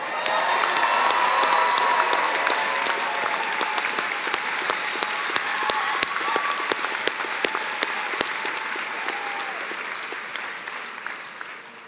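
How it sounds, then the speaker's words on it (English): Sustained applause fills a law school commencement ceremony for the Minnesota Law class of 2023, a large crowd clapping loudly and steadily before slowly tapering off. "one more round of applause"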